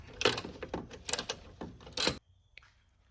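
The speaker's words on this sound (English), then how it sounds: "remove the grill, which is held in by a 10mm bolt here and a 10mm bolt here. So I'm going to quickly take those off" A ratchet removes the 10mm bolts holding the grille on a third-generation Nissan Frontier: three short, loud mechanical bursts about a second apart, then silence.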